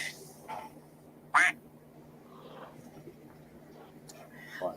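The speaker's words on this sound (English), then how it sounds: "my phone quacks at the most inappropriate time" A phone notification sounds off once as a short, loud duck quack, sharp and nearby, amid quiet room tone and faint background voices.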